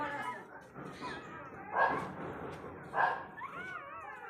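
A dog that recently gave birth whimpers and yips in soft, high whines, several short rising cries in a row at close range, with faint background noise and no voices.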